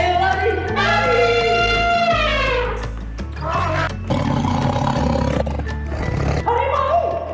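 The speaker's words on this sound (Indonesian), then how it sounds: "Harimau." An animated tiger roars in a cartoon scene, a loud, drawn-out growling roar that rises and falls, followed by more rumbling snarls and a final roar over a busy backdrop of music and effects.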